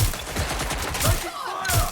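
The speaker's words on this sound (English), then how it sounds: "I need some help now. I'm taking fire." Rapid bursts of gunfire in the video game Watch Dogs Legion, repeated loud shots in quick volleys over a short stretch, with faint game sounds around them.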